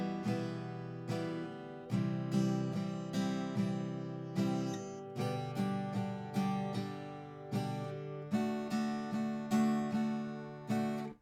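Rhythm guitar strummed in a steady repeating pattern that stresses the beginning and middle of each bar, close and clear with ringing chords between the accented strokes.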